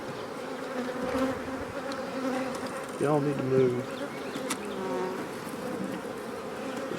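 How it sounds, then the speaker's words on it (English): A dense, steady drone of many honeybees buzzing close by at a hive, with someone speaking briefly over the swarm partway through. "There's too many bees in that hive to keep from killing a couple of them."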